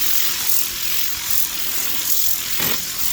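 A carpet extraction machine runs inside a Ford Focus ST500 during a restoration detail, giving a loud, steady whirring hiss with slight pulsing throughout.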